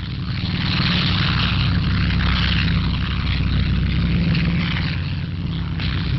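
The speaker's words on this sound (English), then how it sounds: "Medium bombers flown by the Lorraine squadron of the Free French, revisiting their native land daily." WWII Mitchell and Marauder medium bombers fly overhead in a dense, steady propeller engine drone that stays loud and unbroken, with a slightly muffled, archival quality.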